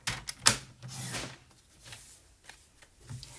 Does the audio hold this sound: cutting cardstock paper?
yes